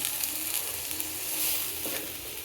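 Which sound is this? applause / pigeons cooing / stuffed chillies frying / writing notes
stuffed chillies frying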